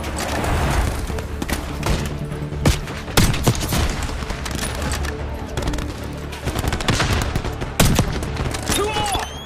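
Sustained gunfire in the video game Call of Duty Black Ops 6, with loud, rapid automatic bursts and sharp individual shots close by, punctuated by heavy impacts, covering fire across a battle.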